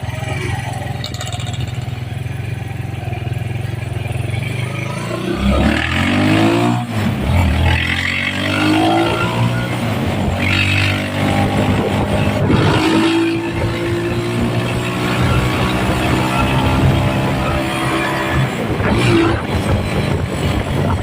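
A TMX Alpha motorcycle converted to 175cc and fitted with a sidecar on a test ride, its engine droning steadily and close throughout, rising and falling as it revs and shifts through the gears.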